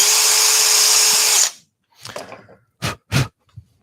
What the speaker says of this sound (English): We need to just drill these out.